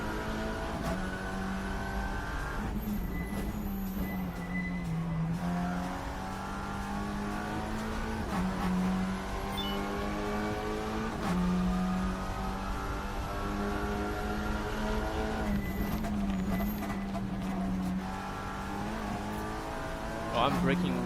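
A TCR race car laps Mount Panorama in a racing video game, its engine whining steadily, then dropping in pitch under braking and rising again several times, with someone talking over it.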